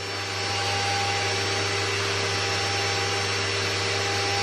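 A 2.2 kW water-cooled high-frequency CNC spindle spins at a steady speed, giving a continuous, even whine with a faint tonal hum beneath it, close and unbroken, with no talk.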